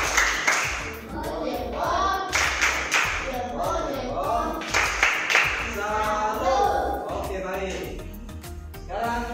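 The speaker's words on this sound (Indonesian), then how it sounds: "Tepuk salut buat kelompok 2. Tepuk salut." A school class performs the rhythmic 'tepuk salut' clapping chant, hands clapping in a steady patterned beat while children's voices chant along, loud and close throughout.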